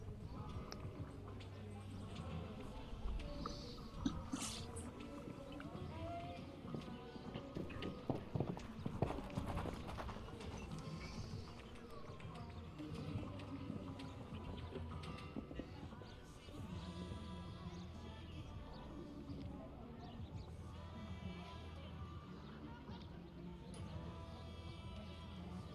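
Hooves clip-clop rhythmically as a horse moves through a medium-tour amateur show jumping class, steady, moderately loud footfalls on the arena surface over a low background with a commentator talking at times.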